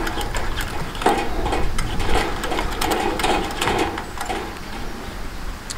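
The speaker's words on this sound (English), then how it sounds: "you'll just cover the hole with your thumb and begin to pump" Someone pumps the plunger on the fuel tank of a Coleman camp stove, making a steady run of quick, rhythmic mechanical clicks and squeaks at close range with no talking.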